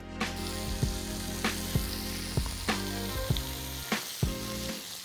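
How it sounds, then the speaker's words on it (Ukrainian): Steady sizzling of onion, garlic and ginger frying in a hot pan, with occasional sharp clicks and scrapes from stirring, close and constant with no talking. "Далі готуємо на цій же сковорідці е, цибулю з часником і імбирем."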